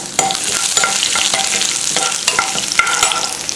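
Four to five cloves of chopped garlic crackling in hot oil with mustard seeds and chana dal, a loud steady sizzle broken by sharp pops and spoon scrapes against the pan.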